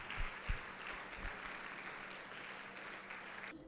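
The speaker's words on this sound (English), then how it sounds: "Please give her a big round of applause as she comes up." Audience applause at an awards ceremony, a steady, moderately distant wash of clapping lasting throughout, with a few sharper claps standing out near the start.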